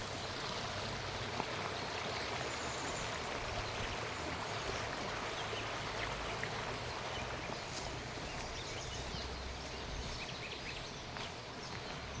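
Water in a cold, clear stream flows steadily with a broad, hissing rush, constant and fairly close, with a few faint splashes and movements over it.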